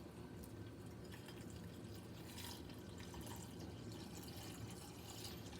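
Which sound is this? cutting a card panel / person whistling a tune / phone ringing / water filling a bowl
water filling a bowl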